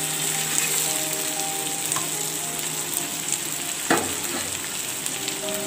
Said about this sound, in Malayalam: നന്നായിട്ടൊന്ന് ഈ നെയ്യിലൊന്ന് വഴറ്റി വെക്കണ പോലെ ഇളക്കി കൊടുക്കാം